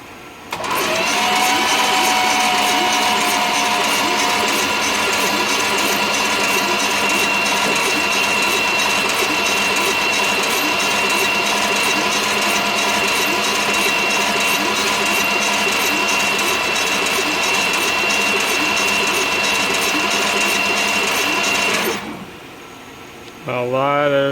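Fuel pump running on a 1966 Plymouth Fury project car, a loud, steady mechanical whir and buzz with a constant pitch that holds for over twenty seconds before cutting off abruptly.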